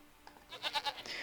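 Goats at a goat farm in the CivCity Rome video game give a few short, close bleats in quick succession, rising to a cluster of loud cries before trailing off.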